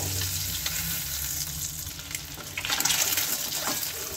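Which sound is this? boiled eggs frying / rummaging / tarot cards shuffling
boiled eggs frying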